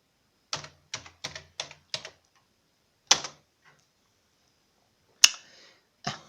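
A command being typed on a computer keyboard of an ASEM 286 computer: a quick burst of five crisp keystrokes, then a lone key press and two sharper final taps, close and clear against silence.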